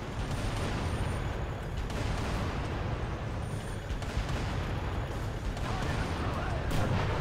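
A mega turret fires in the Xbox One game Spartan Assault, a dense barrage of heavy booming blasts that runs continuously at close range and stays loud throughout.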